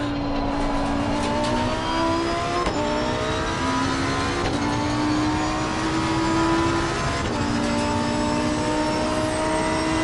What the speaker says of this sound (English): That rev limiter sounds sick